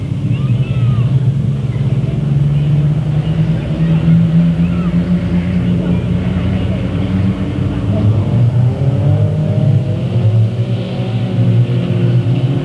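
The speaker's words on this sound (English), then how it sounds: "Green flag's out, we're back to racing." Race cars roar around the Delta Speedway oval under a green flag. Several engines drone and rev loudly and continuously, with a track announcer talking over the racing.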